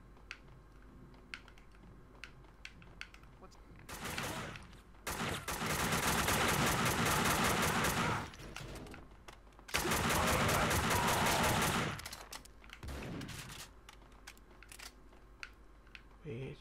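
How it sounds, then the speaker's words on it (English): Shotgun fire in the Max Payne game, The Fall of Max Payne, comes as two long dense bursts of loud blasts a few seconds apart, with quieter clicks and clatter in the gaps. "I heard a shotgun."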